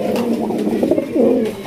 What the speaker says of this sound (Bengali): এগুলো কিন্তু হাই ফ্লাইং কবুতর